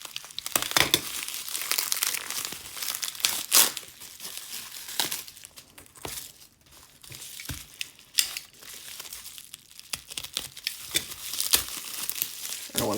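Plastic packaging and bubble wrap crinkle and rustle close by as a package of sports cards is opened by hand, with irregular bursts of crumpling and tearing and short pauses between them. No one speaks.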